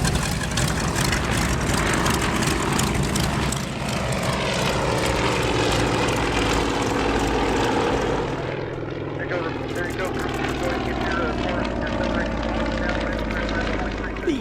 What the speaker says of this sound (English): training and liaison aircraft, like these Yak-52s and their Chinese look-alike, the Nanchang